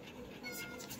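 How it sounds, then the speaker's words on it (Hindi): A cat gives a short, brief meow close by, heard over faint background noise. "बिल्ली ए गला पुणी गला"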